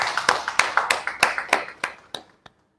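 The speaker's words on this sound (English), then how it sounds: "can you give me a round of applause?" A small round of applause at a lecture on raw materials: a sparse few hands clapping in a quick steady rhythm, close and fairly loud, fading to a single last clap.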